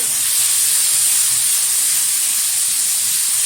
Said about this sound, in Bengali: কিছুটা মশলা জল দিয়ে দিলাম। এবার ভালোভাবে কষিয়ে নেব।